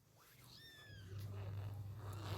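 Pet cats at home make a few short rising meows up close, with a steady low hum running underneath and no talking.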